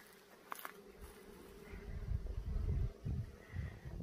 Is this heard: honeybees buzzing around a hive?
yes